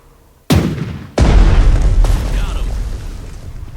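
A warship's naval guns fire in the video game Strategic Mind: The Pacific, with two or three heavy booming blasts in quick succession, loud and close, each rolling into a long rumbling decay.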